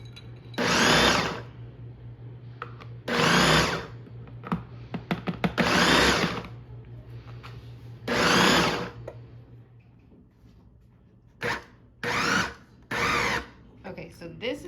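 A food processor runs in short bursts to chop pie crust dough, several loud whirring pulses of about a second each separated by pauses, close by, with a voice talking between some bursts.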